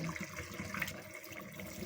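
Water, roughly one glass, is poured into a pan of desi chicken karahi with black pepper, a faint, steady splashing wash that runs throughout with no talk.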